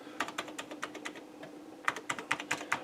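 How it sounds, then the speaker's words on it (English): Keys on an Amiga 1000 computer keyboard being pressed one at a time during a repair check, giving a close series of sharp plastic clicks in an uneven rhythm, with a pause midway and then a quicker burst. "Let's check what keys work."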